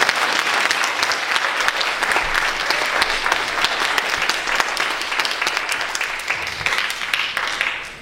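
A loud, dense round of applause from an audience honoring an artist at an awards presentation, many hands clapping continuously and evenly before tapering off at the end.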